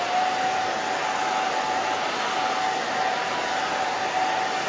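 A hair dryer blows steadily and loudly at close range while hair is blow-dried with a round brush, a constant whooshing roar with a faint high whine running throughout.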